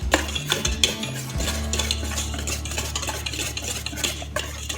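Dry red velvet cake ingredients stirred in a bowl, a steady scraping and clinking of utensil against the bowl continuing close by throughout with no talk.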